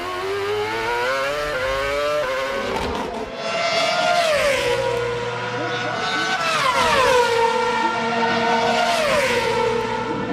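Formula 1 race cars at a Grand Prix scream past with high-pitched engines rising and falling through gear changes, loud and close, under commentary.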